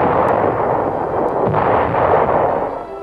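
Artillery fire in WWII newsreel footage, heard as a loud, continuous, rumbling barrage roar with no clear gaps between blasts and no speech over it.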